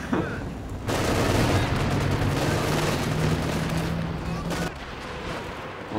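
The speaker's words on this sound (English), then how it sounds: "artillery down over this infantry" Artillery shells landing on infantry in the strategy game Company of Heroes 2, a dense, loud barrage of booms and gunfire rolling for several seconds under commentators talking.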